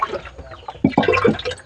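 Dishes being washed by hand with water at home, giving a short run of splashing, sloshing and clinking water sounds, nearby and fairly clear, with no talking.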